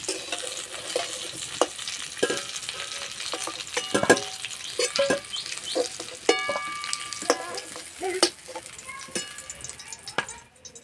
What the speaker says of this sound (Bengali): ফুলকপিটা ভাজতে একটু সময় লাগে, আর ঠিক এইভাবে ভেজে নিতে হবে